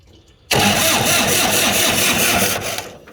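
An old car engine, bought by an undertaker, cranks and fires after a quiet start, then runs loud and steady near the microphone for a few seconds. No one speaks.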